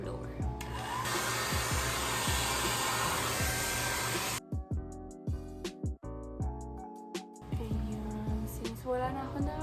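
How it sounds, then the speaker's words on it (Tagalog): A hair dryer blows with a loud steady roar, cutting out and restarting partway through, with clicks and handling noises between bursts. "So, gamit na yung blower."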